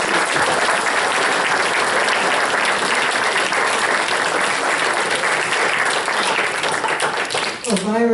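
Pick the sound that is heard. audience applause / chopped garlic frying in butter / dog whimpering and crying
audience applause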